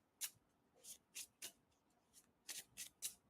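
Tarot cards being shuffled by hand give a series of soft, quick riffling bursts, about eight brief swishes in an uneven rhythm, close and quiet with no talking.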